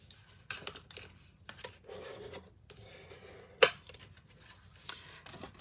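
Scored paper is folded to make a box, with soft rustling and rubbing followed by one sharp, crisp crease snap and then light handling noises, all close and quiet.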